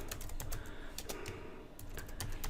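Someone types steadily on a computer keyboard at close range, with quick, irregular key clicks and no voices.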